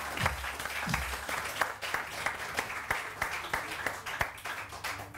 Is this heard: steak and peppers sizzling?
no